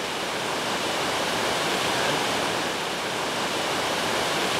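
Steady, full roar of a waterfall on a wilderness trek, broadband rushing water close and constant for the whole stretch with no voices over it.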